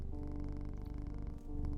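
A cat purrs steadily and close, a continuous low rumble with a regular pulsing rhythm and no voices.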